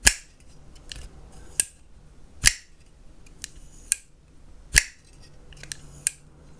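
A small Sebenza 21 pocketknife is opened and closed repeatedly, producing sharp, close metallic clicks and snaps spaced about a second apart, each one crisp and isolated against a quiet background.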